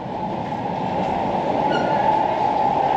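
Sofia metro train rumbling at a station, a steady loud rolling roar of railcars with a faint brief wheel squeal partway through, no talk.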